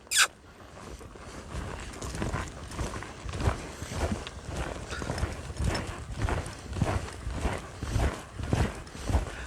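A horse lopes while ridden bridleless, its hoofbeats thudding in a steady rolling rhythm of repeated close clip-clops after a sharp opening knock, with no talk.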